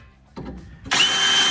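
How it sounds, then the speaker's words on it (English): A power drill bores a hole in a VW Beetle body being mated to its chassis, first a short lower whir, then a loud, close, steady high whine as the bit bites into the metal. "I have to drill a little bit more"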